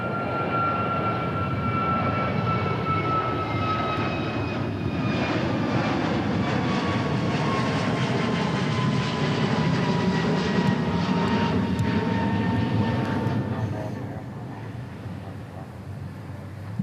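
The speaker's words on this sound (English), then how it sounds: "This is an A321 taking off." An Airbus A321 takes off from runway 36 Left at DFW International Airport on a hot day, a loud, steady jet roar with a whining tone that holds for about fourteen seconds, then eases as the aircraft climbs away.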